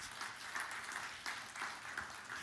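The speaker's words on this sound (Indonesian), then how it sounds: "Beri tepuk tangan yang meriah bagi Tuhan." Quiet applause from a church congregation during a sermon, a soft steady patter of many hands with slight swells, heard from a distance without voices.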